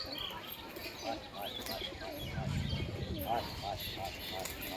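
A pigeon coos in soft, repeated low phrases against a busy outdoor background of other birds and ambient noise.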